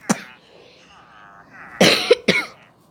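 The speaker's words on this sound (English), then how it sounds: "Sorry for my coughing." A person coughs once sharply, then after a pause gives two more quick harsh coughs close to the listener, with faint breathing between.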